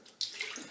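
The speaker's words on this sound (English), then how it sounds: "and pour out all the water" Water poured out of a wet, saturated shaving brush or bowl: a short, close splash of running water that starts abruptly and continues briefly at moderate level, with no talking.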